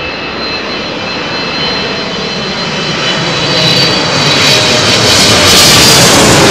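Emirates Airbus A380 jet arriving at London Heathrow on runway 27L, a loud, steady broadband engine roar with a high whine that swells as the aircraft draws nearer, with no talk over it.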